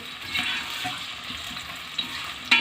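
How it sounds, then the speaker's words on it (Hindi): Onions sizzle and fry in hot oil in a pan, browning to a light golden colour, a steady close hiss with a few brief stirring clinks. "प्याज को हम लाइट ब्राउन करेंगे"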